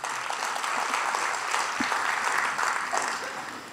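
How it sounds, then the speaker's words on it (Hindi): A crowd at a Hindi poetry recital, a kavi sammelan, claps steadily and fairly loudly for a few seconds, with a brief shout cutting through the applause. "ताली बजा दो भाई।"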